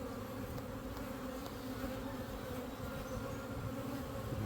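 A honeybee swarm being moved into a hive box hums in a steady, continuous drone, close and fairly even in loudness throughout, with no voices over it.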